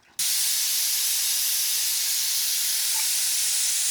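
A loud, sudden rush of escaping steam bursts from a pressure cooker whistle cooking beef and keeps hissing strongly without pause, close by.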